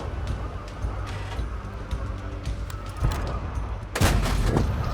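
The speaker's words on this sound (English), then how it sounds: "Oh, he's gonna shoot at me, I'll shoot at you." Tank cannons fire in a tank battle video game, a Stug III G among them: a few heavy booms over a rumbling engine and battle background, the loudest blast near the end.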